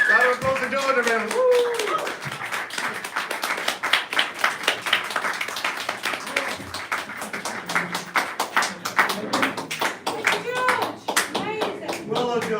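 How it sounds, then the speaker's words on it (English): Audience applause and clapping at the end of a live stand-up comedy show, dense rapid hand claps sustained for several seconds with voices and cheering mixed in, loud and close. "Round of applause for George, everyone."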